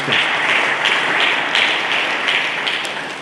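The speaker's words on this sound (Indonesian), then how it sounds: "Berikan tepuk tangan bagi Tuhan Yesus." A church congregation claps in praise of Jesus during a sermon, producing rhythmic, fairly loud group clapping with regular pulses throughout.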